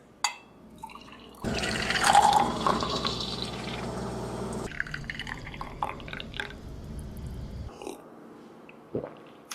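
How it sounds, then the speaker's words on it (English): Milk poured into a cup of coffee in an AI-generated kitchen scene, a steady liquid filling sound with dripping, loud at first and then settling into a softer trickle. "Time for the milk."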